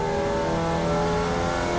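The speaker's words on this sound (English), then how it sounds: "I thought I'd just go around the track and basically in third gear, not pushing it, just enjoying it." A formula race car in iRacing cruises steadily around a track in third gear, its engine a loud, even drone with a constant mid-pitched whine and no talking.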